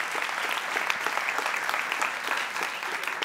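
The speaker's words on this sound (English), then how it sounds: "Let's give another round of applause for all of our lightning talkers." Conference audience clapping for a group of lightning talk presenters, a steady, loud patter of many hands throughout with no voices over it.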